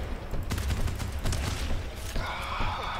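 Rapid gunfire in the GTFO co-op shooter video game, dense bursts of shots and impacts filling the clip loudly, with mechanical clatter and a brief shout.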